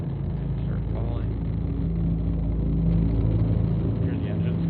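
Engines in the BattleTech video game roar steadily as a craft falls under gravity, with a loud continuous low rumble that swells slightly, partly under faint voices.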